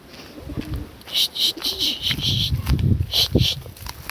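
Domestic pigeons near their loft give low, repeated coos in short bursts, mixed with sharper chirps and some background voices.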